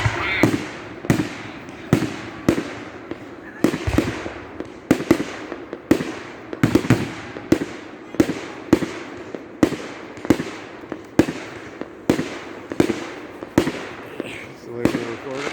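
Fourth of July fireworks at a 2022 show in Clinton, Maine burst in a steady series of sharp booms, roughly two each second, each echoing briefly, with faint voices now and then between them.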